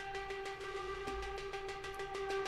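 Heavily distorted, trashed hang drum tone used as Trailmakers boss music, a dense buzzing drone with steady sustained pitches and rapid repeated pulses running continuously, loud and alone with no voices.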